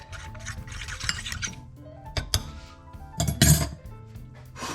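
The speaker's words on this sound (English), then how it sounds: "This one with the corn flour, just give a mix" Breadcrumbs and corn flour are mixed in a bowl, giving scraping and rubbing strokes with sharp clinks of a utensil against the dish in irregular bursts, close up and without talk.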